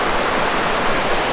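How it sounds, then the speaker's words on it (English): The River Meavy on Dartmoor rushes steadily, a dense and even wash of flowing water heard up close with no break. "Yeah, the Meavy River then"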